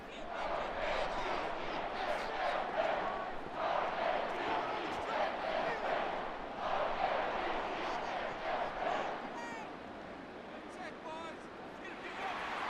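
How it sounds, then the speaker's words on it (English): A home stadium crowd roars and applauds at an NFL game simulated in Madden 25, Browns against Ravens, as a steady loud wash of cheering and clapping that fills the whole clip without pause. "And the home crowd applauding."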